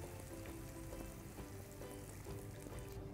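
Water being poured into tamarind paste in a kitchen while preparing brinjal curry: a faint, steady splashing and trickling with a light sizzle-like texture, quiet and continuous.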